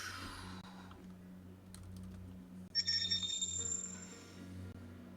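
A phone chimes with a text message notification, a bright tone of several stacked notes that rises suddenly over soft keyboard typing and a low electrical hum, then fades out.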